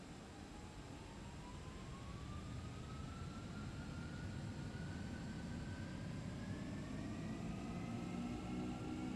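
Boeing 767-300F jet engines spool up in X-Plane 12, a steady rising whine that climbs slowly in pitch over a broad, even roar, sustained and fairly quiet throughout.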